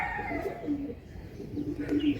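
Pigeons at a bird sale in Hooghly coo softly in short, low repeated phrases, a couple of calls close by over a murmur of background noise and faint voices.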